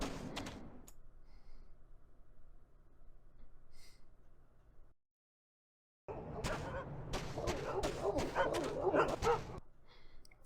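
Dogs whine and yip from their kennels in the Iron Storm video game, in two bursts: several whimpers at the start, then a gap, then a denser stretch of excited yelps and barks, fairly close.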